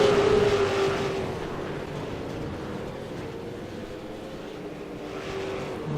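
A V8 race car in a racing video game drops down two gears on approach to a corner, its engine note droning and shifting under a steady hum, moderately loud with no talking.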